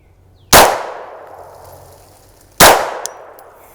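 Two loud, sharp Glock pistol shots fired through a blast can, about two seconds apart, each a sudden crack followed by a ringing, decaying tail.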